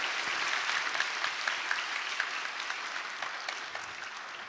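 A church congregation applauds to welcome elders during a Sunday worship service, a steady wash of many hands clapping at once, moderately distant and sustained without pause.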